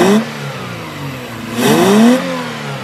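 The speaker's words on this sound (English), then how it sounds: "when I installed a short ram intake with a pod filter on the end of it on my Toyota Camry, it was louder than when I installed an exhaust" A Toyota Camry engine fitted with a short ram intake and pod filter revs twice, each blip rising sharply in pitch with a loud induction roar before dropping back to a steady idle, close and loud.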